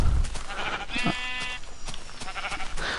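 Sheep in the Minecraft video game bleating, a few short wavering bleats close by, one longer quavering call near the middle, with soft game sounds in between.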